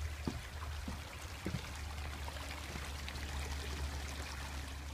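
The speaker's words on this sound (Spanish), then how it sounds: "Aquí está el río Najerilla o Nájera, o no sé cómo se llama." The Najerilla river flows steadily, heard while crossing it on a foggy winter walk along the Camino from Logroño to Santiago. It makes a constant, broad rushing wash with a few faint splashy ticks and no talk.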